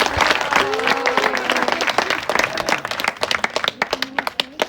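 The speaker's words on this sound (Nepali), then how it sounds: "जोरदार ताली बजाएर" A crowd at a public gathering bursts into loud, dense applause that thins into scattered individual claps.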